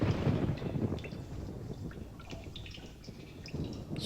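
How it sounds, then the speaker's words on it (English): Water trickling and running down stone walls in the video game realMyst, a steady soft wash of liquid with faint drips, continuous and fairly close throughout. "There's water running off the walls."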